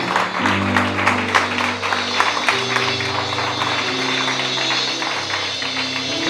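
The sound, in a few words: congregation applause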